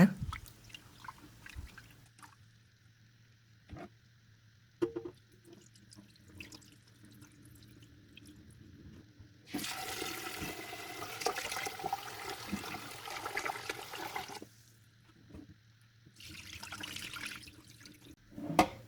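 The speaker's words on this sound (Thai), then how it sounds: "แล้วก็ทำการล้างค่ะ สำหรับคลิปนี้นะคะก็จะล้างสองรอบนะคะ" Quinoa and rice being washed in a bowl of water, with a long stretch of loud running tap water and swishing, plus scattered quieter clinks and splashes before and after, no talking.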